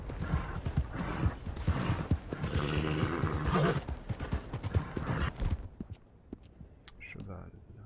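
Rhythmic clip-clop of horse hooves in Red Dead Redemption 2, fairly close and repeated, with a horse whinny mixed in and talk over it, then fading to quieter sparse sounds.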